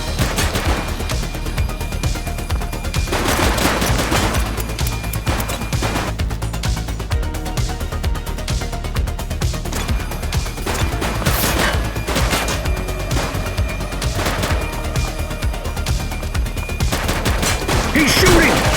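Dense, sustained gunfire in the police video game The Precinct: rapid overlapping shots and automatic bursts that continue without a break, with occasional voices mixed in.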